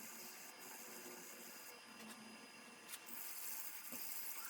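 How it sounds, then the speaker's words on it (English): Sanding a wooden Celtic knot piece through the grits up to 400, a continuous hissing abrasive whir with short breaks and a louder stretch near the end, close up. "I'm sanding to about 400 on this."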